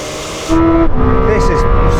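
Ferrari 296 and Lamborghini Temerario launch side by side in a drag race, engines suddenly surging to a loud, sustained roar with wheel spin, a commentator talking over the noise.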